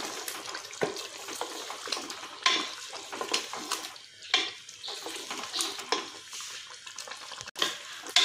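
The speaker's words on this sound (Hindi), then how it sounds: "अब हम इसकी अच्छे तरीके से भुनाई कर लेंगे, तकरीबन 4 से 5 मिनट।" Spoon stirring and scraping through mutton shorba with cream sautéing in a pan, a soft, steady sizzle broken by irregular scrapes and clacks, close and fairly quiet.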